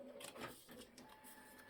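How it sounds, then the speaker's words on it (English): A home printer running on its own, a soft steady mechanical whir with faint repeated ticks of the print head moving back and forth, quiet and close by. "oh, there's my printer"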